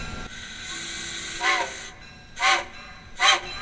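A steam locomotive pulls away as its throttle opens, with three loud, evenly spaced bursts of steam chuffing about a second apart over a low, steady hiss and rumble.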